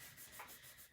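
Brief, soft rubbing of a paper panel pressed down by hand, a steady close scuffing texture with no voice.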